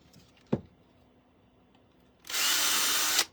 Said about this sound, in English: we're gonna take my drill here